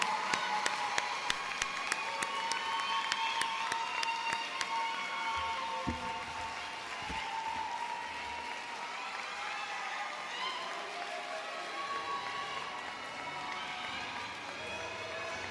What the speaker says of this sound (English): let's give them a round of applause because they have done an outstanding job